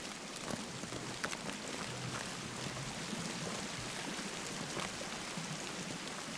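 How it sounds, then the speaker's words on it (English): A waterfall in the video game Sons of the Forest, set in a frozen winter landscape, makes a steady, even hiss of rushing water at moderate loudness, with no talk over it. "Cool waterfall, though."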